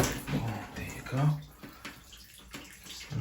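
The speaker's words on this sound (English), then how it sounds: "there's a lot of water coming out" Water gushes and splashes steadily from a leaky shower head during a home repair, a close, continuous spray with brief gurgles and some handling noise.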